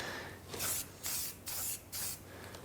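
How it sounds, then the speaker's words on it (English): Four bursts of spray paint hiss from a fairly new aerosol can, each roughly half a second long with brief gaps between them. The can is being applied to a freshly TIG-welded metal piece that is still warm. Close and fairly loud, with no voices. "you know how spray paint works, I assume?"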